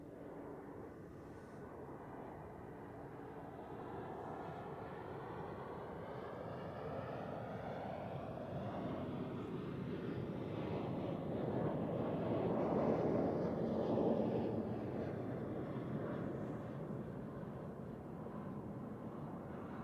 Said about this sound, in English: I can already hear a 777 on final.